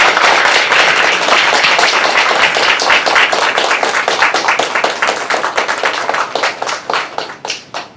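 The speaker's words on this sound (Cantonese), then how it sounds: "如果我哋請俾啲掌聲鼓勵兩位候選人啦" Audience at a Hong Kong Legislative Council engineering constituency election forum applauding the two candidates: a dense, loud burst of clapping from a room full of people that thins into scattered individual claps and fades out.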